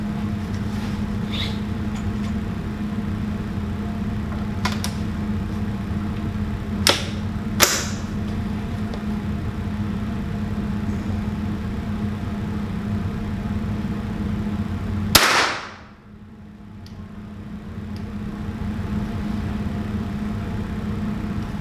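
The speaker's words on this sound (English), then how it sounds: "So I got one of these plastic bottle targets about 40 feet downrange." A Henry AR-7 rifle fires at plastic bottle targets about forty feet downrange, with a few faint cracks followed by one loud, close report that briefly cuts through a steady outdoor hum before it swells back.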